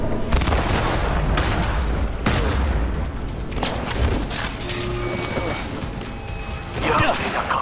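Heavy gunfire in the Cyberpunk 2077 video game rattles on in dense, loud bursts and crashes for several seconds, with voices talking over the shooting.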